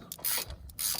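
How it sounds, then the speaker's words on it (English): Torque wrench ratchet clicking as an M8 bolt on an Altrider crash bar for a Yamaha Super Tenere 1200 is tightened to 22 Nm; two quick bursts of close, crisp mechanical clicks. "I've got my little torque wrench here, and I'm going to do it up to"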